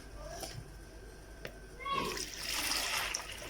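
Water being poured into a container to soak bitter gourds, a brief splashing stream swelling midway and continuing as a soft pour, with faint clicks and handling noise before it.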